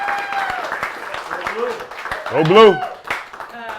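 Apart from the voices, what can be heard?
audience applauding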